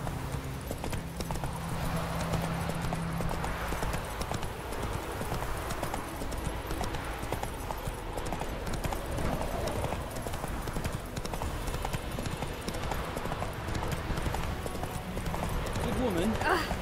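Roach, Geralt's horse in The Witcher 3, gallops with fast, continuous hoofbeats in a steady rhythm, set against a dense game soundscape with voices mixed in.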